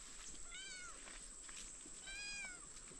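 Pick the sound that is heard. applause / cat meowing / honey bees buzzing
cat meowing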